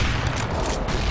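A grenade detonating in Counter-Strike: Global Offensive, a loud, dense roar of blast noise filling the whole moment with no clear gaps, no voices present.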